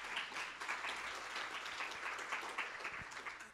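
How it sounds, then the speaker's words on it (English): Audience clapping at a talk with Scott Walker and Kristan Hawkins, a steady, moderately distant wash of many hands applauding at even intensity throughout. "You can clap for that."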